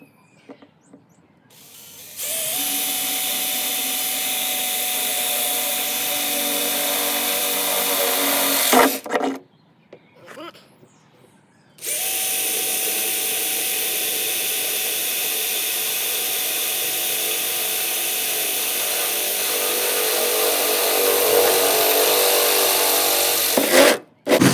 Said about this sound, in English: So a couple of pilot holes.